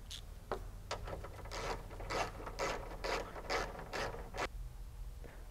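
A bolt being tightened on a 2011-or-later Hyundai Sonata during an HID headlight install, a rapid series of about ten ratcheting clicks close up, alone without talk.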